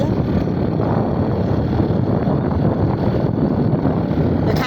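Steady wind blows outdoors across rice fields in the countryside, a continuous, fairly loud rush of broadband noise buffeting the microphone, with no voices heard.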